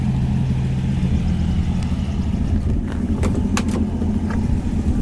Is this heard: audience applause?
no